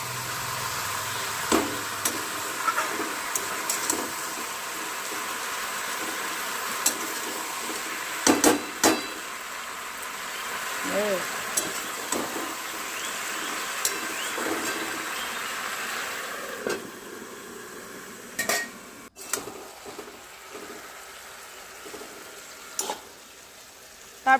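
Vegetables for sukto cook in a covered pan, with a soft, low sizzle throughout. Sharp clanks and scrapes of a spatula or lid come at irregular intervals, and no one speaks.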